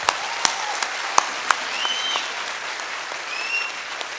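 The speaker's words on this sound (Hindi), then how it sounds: "A big round of applause for all the achievers." A crowd applauds steadily for award achievers at a company event, dense, even clapping filling a hall, with a few sharp louder claps standing out close by.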